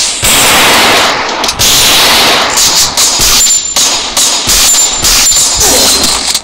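Rapid gunfire from the shooter game Free Fire on a Craftland map rattles loud and close, bursts of repeated shots with brief gaps, nearly continuous through the stretch.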